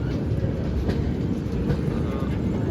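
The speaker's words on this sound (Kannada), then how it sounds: "ಹಜರತ್ ನಿಜಾಮುದ್ದೀನ್ ಗೋವಾ ಎಕ್ಸ್ಪ್ರೆಸ್ ಈಗ ಎಂಟ್ರಿ ರೀ ಯಾವ ಸ್ಟೇಷನ್ ಅಂದ್ರೆ ಝಾನ್ಸಿ ಜಂಕ್ಷನ್" The Hazrat Nizamuddin Goa Express rumbles into Jhansi Junction at night, a steady loud rolling roar of wheels and carriages close by, with a voice talking over it.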